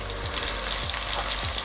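Italian sausage frying in a pan, a dense, loud, close hiss of spattering fat with a few low thumps, steady and brief with no voices.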